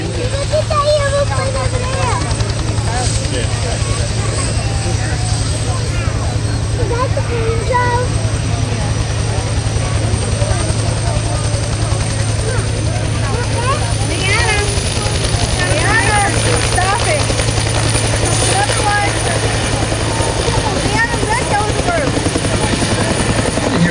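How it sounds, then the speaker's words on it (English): A military AH-53 helicopter departs an air show, its loud, steady rotor thump and turbine whine filling the air with a continuous drone. A commentator talks over the engine noise. "Looks like our AH-53 is heading off back home."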